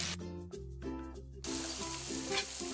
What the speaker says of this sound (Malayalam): ബാക്കിയിരിക്കുന്ന ചിക്കൻ പീസസ് ഇതുപോലെ തന്നെ ഇട്ട് ഫ്രൈ ചെയ്തെടുക്കാം.